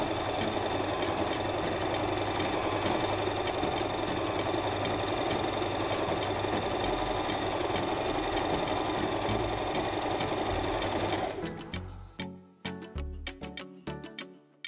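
Singer M3205 sewing machine stitching in a fast, continuous mechanical whir with rapid needle ticks, close and steady for about eleven seconds before it slows into a few separate clacks and stops.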